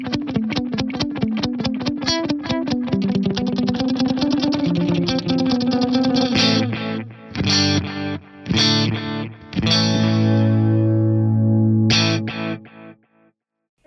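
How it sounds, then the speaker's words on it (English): Distorted electric guitar through an Axe-Fx III delay, set to dotted-eighth repeats with eighth-note-triplet stereo panning, plays a fast picked run and then sustained chords, with echoes trailing into a clean decay at the end. "Let's set the panning to be an eighth note triplet, but we will set the core delay time to be a dotted eighth note"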